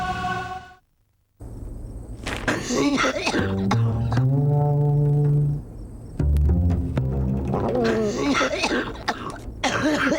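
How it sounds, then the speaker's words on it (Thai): Several harsh, wet coughs and throat clearing come in bursts between stretches of talking and a short musical jingle. "ไอแบบมีเสมหะ"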